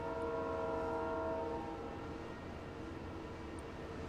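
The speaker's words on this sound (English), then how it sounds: "There goes Daniel with the train." A train sounds its horn in a long sustained blast that then fades, followed by the low rumble of rail cars rolling past at a distance, with no talk.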